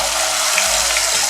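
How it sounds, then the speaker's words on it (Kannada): Water pouring into a mixer jar in a home kitchen while making coriander leaf gojju, a steady loud gush lasting about a second and a half, with no talk. "ಇದಕ್ಕೆ ನಾವು ಸ್ವಲ್ಪ ಮಿಕ್ಸರ್ ಜಾರ್ಗೆ ನೀರು ಹಾಕ್ಕೊಳ್ತೀನಿ"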